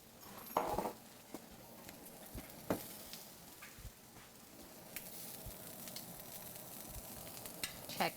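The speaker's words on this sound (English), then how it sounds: "I love the sizzle sounds from that pan as well." Chicken with garlic cloves sizzles in a frying pan, a soft continuous fry broken by occasional stirring clatters and scrapes, fairly faint and without talk.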